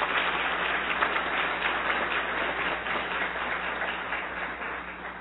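Sustained, dense applause fills a council chamber during a solemn ceremony, a steady wash of many hands clapping together with no pauses or voices over it.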